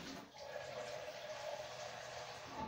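Tap water running steadily into a bowl in a home kitchen, a continuous close splashing rush lasting the whole moment with no talk over it.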